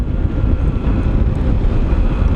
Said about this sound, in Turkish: Ama biraz rüzgarlı.